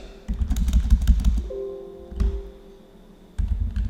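Keys clatter on a computer keyboard while text is entered into an Excel spreadsheet, with close, quick bursts of typing, a short pause, then another brief run of keystrokes.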